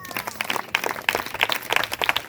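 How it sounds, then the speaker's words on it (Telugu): A church congregation claps again, with bursts of many hands rising and falling in uneven waves, heard nearby and fairly loud, with a faint murmur of voices underneath. "మరోసారి చప్పట్లు కొట్టండి"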